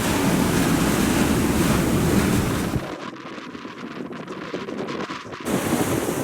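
Strong wind and breaking waves at sea aboard a sailboat with the jib unfurled, a loud continuous rushing roar that dips briefly mid-way before surging back, close and alone without talk.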